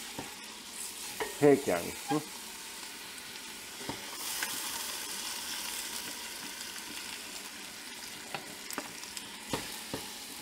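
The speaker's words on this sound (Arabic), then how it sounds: "هلا الطنجره عندي حاميه، بدي نزل اللحمه تاخذ لون" Meat searing in a hot pot for Moroccan couscous with vegetables, a soft sizzle with a few sharp clatters and stirring scrapes near the start, then quieter frying and occasional taps, with a brief spoken comment.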